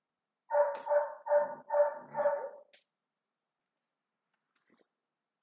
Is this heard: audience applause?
no